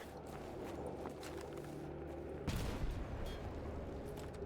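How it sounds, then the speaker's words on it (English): Grenade blast in the shooter S.T.A.L.K.E.R. GAMMA: a single broadband boom lands midway, rising over a steady backdrop of game ambience and low rumble, with scattered crackle trailing after it. "Throw a grenade."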